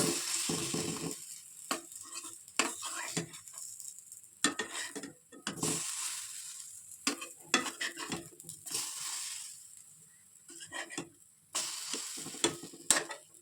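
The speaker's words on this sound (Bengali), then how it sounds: "অল্প অল্প তেল দিয়ে ভাজছি" Eggplant fritters fry in a little oil in a pan, giving a soft sizzle broken by repeated scraping and stirring clinks of a utensil as the pieces are turned, close and fairly quiet with no talking.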